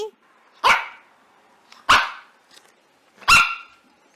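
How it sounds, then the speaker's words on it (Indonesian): Three sharp dog barks spaced about a second apart, loud and close, with quiet gaps between them. "ini adalah suara anjing"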